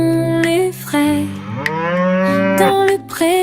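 A voice in a children's song imitates a cow mooing with long, sustained, melodic moo tones over light musical accompaniment.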